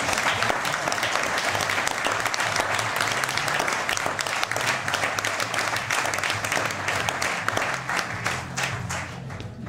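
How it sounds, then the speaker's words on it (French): A theatre audience applauds the two prompters with steady, dense clapping that stays loud and even throughout, a full hall of hands with no talk on top. "Merci d'applaudir nos souffleuses Claude et Claire"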